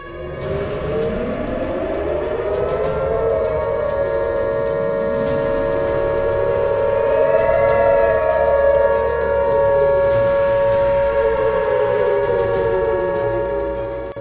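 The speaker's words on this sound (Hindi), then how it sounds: "जंग की सूरत में जब हवाई हमले होते हैं तो इसी तरह सायरन बजते हैं।" Wartime air raid siren wailing steadily, its pitch sweeping up and down in long slow cycles, loud and unbroken for the whole stretch with faint distant clicks above it.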